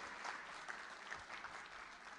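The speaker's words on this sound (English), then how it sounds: "Can I hear a bigger clap?" A conference audience at a keynote at Devopsdays India 2018 gives a short burst of steady clapping, heard faint and distant.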